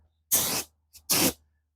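A spray gun puts flat black paint onto RV rims outdoors in the sun: two short, loud hissing bursts with a brief puff between them, and silence around them.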